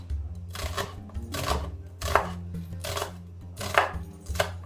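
A knife slicing a halved onion into thin slices on a cutting board for onion bhaji, with about six distinct chopping strokes in an uneven rhythm, close and fairly loud, no speech.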